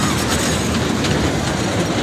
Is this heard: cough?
no